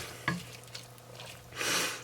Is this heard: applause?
no